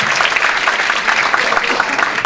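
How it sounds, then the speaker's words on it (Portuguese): Sustained, loud applause from a lecture audience for a neurolinguistic programming speaker, continuous and dense throughout, with some faint crowd noise underneath. "Vou pedir uma salva de palmas então, para o professor Marco Túlio."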